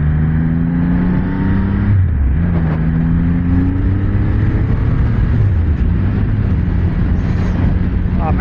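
Engine of a Triumph Rocket 3 GT motorcycle under way, a continuous loud drone with shifting pitch as the rider accelerates and eases off, steady road noise throughout and no voices.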